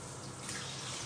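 Tap water gushes steadily into a sink or basin at home, a close, continuous splashing rush with no speech during the short burst.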